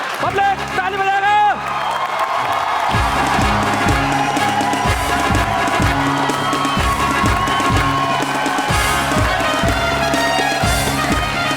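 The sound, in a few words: audience clapping and cheering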